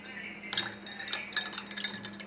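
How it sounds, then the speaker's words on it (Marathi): A spoon clinks against a glass while stirring a mocktail with basil seeds, giving a few light, irregular taps and chimes over soft liquid swirling, close and fairly quiet. "मस्त असं व्यवस्थित हलवून घ्यायचं"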